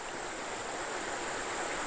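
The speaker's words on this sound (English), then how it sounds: "this little creek running under it" Small creek running over a flat ledge-rock bottom beneath a low water bridge in a forest, a steady, even rush of flowing water holding constant for the whole stretch, with no voices.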